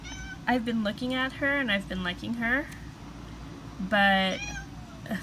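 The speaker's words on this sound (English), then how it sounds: "sorry if you hear my kitty in the background." A pet cat meows several times close by, with drawn-out wavering cries, while someone talks over them in a quiet room.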